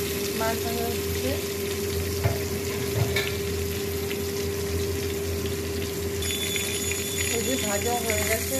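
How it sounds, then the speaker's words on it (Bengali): Bhetki fish pieces, rubbed with salt and turmeric, fry in hot oil with a loud continuous sizzle close by. A steady hum and a few faint clinks sit under it, and a voice speaks over it. "মাছ ভাজা হচ্ছে"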